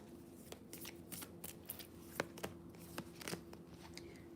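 Tarot cards are shuffled and drawn in soft, repeated riffling flicks and slaps, close but quiet, with a faint steady hum in the background and no talking.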